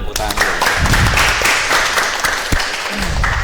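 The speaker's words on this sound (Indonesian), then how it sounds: "Tepuk tangan lu." Audience clapping at a motivational talk, a loud, brisk burst of scattered hand claps close by, mixed with cheering voices and chatter throughout.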